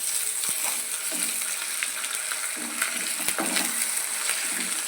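Ginger garlic paste frying with browned onions in a pan, a moderate crackling sizzle with occasional spoon taps and scraping strokes throughout.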